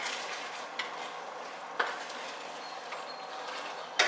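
Peanut butter sauce with milk bubbling on the stove in a pot, a steady soft simmering hiss with occasional brief pops and utensil clinks, no talking.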